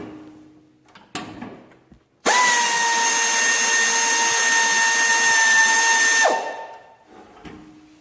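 A power drill unscrews the throttle cable on a lawn mower engine, a few brief clicks and handling noises, then one loud sustained whirring burst lasting about four seconds before spinning down to quieter fumbling.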